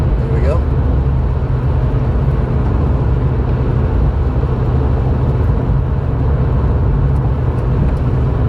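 A car passes on a drizzly UK road as heard from inside a moving vehicle, with a steady loud road and engine rumble and a brief rising whine near the start.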